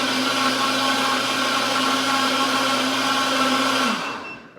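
A DynaPro blender whirs loudly while blending almonds into almond milk. The motor drone is steady and close, then winds down near the end as the motor stops.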